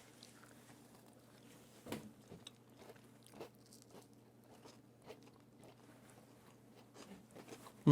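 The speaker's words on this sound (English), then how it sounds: "I am here to taste the next set of cookies." Crisp bites and crunchy chewing of freshly baked chocolate cookies, close and quiet, with a sharp crack near the start followed by irregular soft crunches and mouth sounds.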